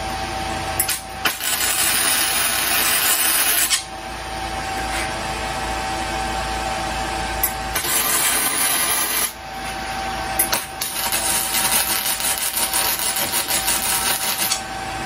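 A MIG gun welding a wire Christmas wireframe on a grounded metal welding table: several bursts of steady, crackling hiss, each lasting a few seconds, separated by short pauses and close to the listener.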